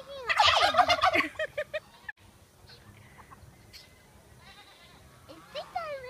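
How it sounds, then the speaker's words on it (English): A rooster gives loud, harsh calls up close at the start, then quieter clucks and scattered bird sounds follow. "That's a rooster."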